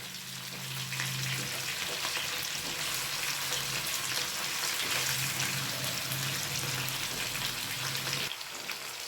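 Chicken frying in a pan for biryani, a steady broadband sizzle that holds close and loud for about eight seconds with faint stirring underneath, then drops away abruptly near the end.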